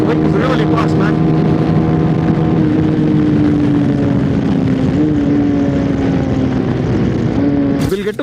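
A 2026 TVS Apache RTX 300 motorcycle engine drones loud and steady close by, its pitch holding and dipping slightly as the bike accelerates through the gears, with a brief burst of wind or handling noise at the very end.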